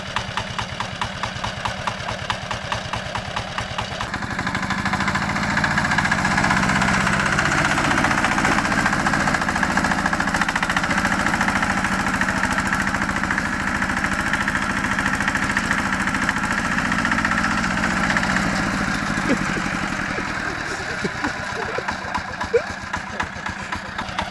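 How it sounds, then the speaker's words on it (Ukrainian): A walk-behind tractor engine runs steadily throughout, a chugging mid-pitched drone that rises in intensity in the middle as a gear is engaged and settles back down toward the end. "я зараз включаю саму біржу передачу"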